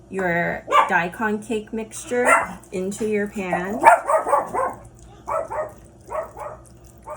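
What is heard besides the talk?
dog barking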